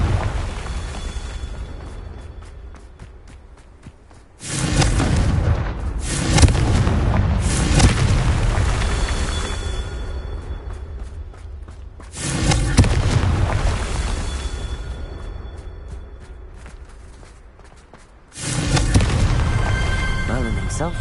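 Three separate Confringo fire-spell blasts from the game Hogwarts Legacy land several seconds apart. Each one is a sudden loud boom with a roaring tail that fades gradually, and there is speech alongside.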